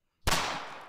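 A single Fat Tiger firecracker blast from the Böller Pro app: one sharp, loud bang after a short silence, followed by a decaying rumbling tail.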